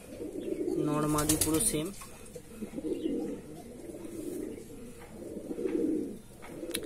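Andhra Madrasi pigeons, including Dasu and Mundi Sada birds, give soft throaty coos in repeated bursts close by, while someone talks over them.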